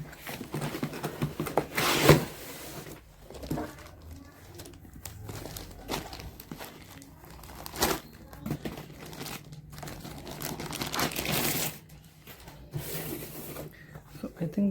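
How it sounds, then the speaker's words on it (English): Unboxing of a Lenovo ThinkBook 16 laptop with a Ryzen 7535HS, plastic packaging crinkling and rustling with occasional tearing, close and intermittent, while a person talks throughout. "let's remove it from the box."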